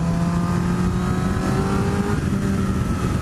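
A 2017 Honda CBR1000RR SP sport motorcycle engine pulls hard and steadily, its loud, close, continuous drone holding a strong tone that climbs slightly as it accelerates, with no talk over it.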